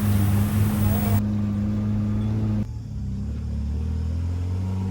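A rented car drives along a rough road in the Ollon Valley of Tana Toraja, its engine a steady loud hum and rumble throughout.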